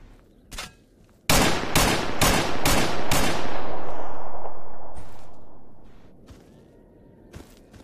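Gunfire in the video game S.T.A.L.K.E.R.: Anomaly: one faint shot, then a loud rapid burst of about five shots with a long echoing decay, and a final sharp shot near the end.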